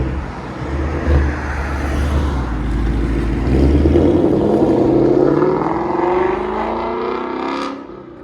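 A Ford Mustang fitted with a Corsa Extreme Double Helix X-pipe catback exhaust drives in traffic, giving a loud, rising engine rumble and whir as it accelerates nearby.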